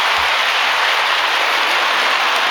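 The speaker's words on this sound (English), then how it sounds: "Here's the train. You can see a little bit of the smoke coming out." A loud, steady rushing roar of a steam train rolling by at close range, with a brief low thump near the start.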